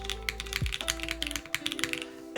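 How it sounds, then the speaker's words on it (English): Rapid, irregular key clacks come from a mechanical keyboard with SA keycaps on a System_65 build, with crisp close strikes in uneven bursts alongside a faint steady electronic hum. "now that we got the sound signature cleaned up, it's a good sounding keyboard"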